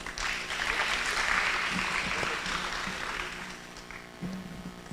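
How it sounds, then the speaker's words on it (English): Audience applause for a graduating senior class at an Oshwal Academy Mombasa graduation ceremony, a steady broad wash of clapping that holds for several seconds and tapers slightly toward the end. "A round of applause"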